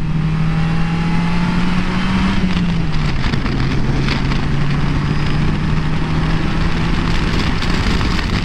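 Engine of a 2017 Polaris Slingshot SLR three-wheeler while driving through a turn, a loud steady drone whose pitch dips briefly then holds, mixed with constant road and wind rush.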